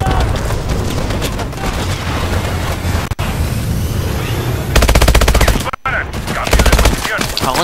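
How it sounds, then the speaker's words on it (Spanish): Call of Duty Advanced Warfare shuttle strafing the ground, loud sustained rapid-fire gunfire in dense bursts with brief pauses and booming impacts, a faint voice underneath. "Cormac, la lanzadera nos está acribillando."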